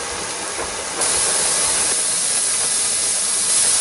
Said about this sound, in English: so now it just started blowing out a good steam